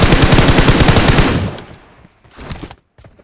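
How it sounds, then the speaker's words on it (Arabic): A loud, close machine gun burst rattles rapidly at a car in the PUBG Mobile video game, then cuts off, leaving a few fainter echoing shots and game noise trailing away. "ركز هنا لما اضرب على العربيه ايه اللي هيحصل"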